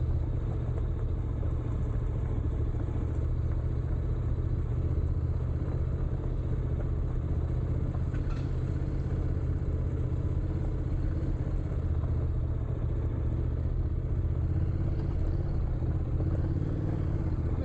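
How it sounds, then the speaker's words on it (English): A vehicle drives steadily along a gravel off-road track, its engine rumbling low and constant with road noise for the whole stretch, close and unbroken, without talk. "Tyres are gripping reasonably well on this off-road surface."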